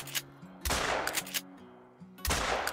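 A shotgun fires during a duck hunt in New England mountains, giving a few loud close blasts with decaying tails, separated by a steady low droning duck call.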